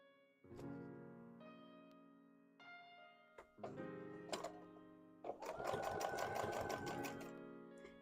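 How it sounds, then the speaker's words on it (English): A sewing machine stitches a plush mustache in several short bursts of whirring, then one longer, louder run at the end, heard close up with no talking. "let's sew up a mustache"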